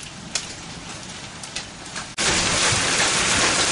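Rain falls during a thunderstorm in Ghent: steady patter with a few drips, then the downpour abruptly swells into a loud, dense roar that continues to the end.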